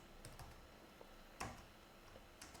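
Code being typed on a computer keyboard, a quiet run of irregular key clicks with one sharper, louder keystroke partway through.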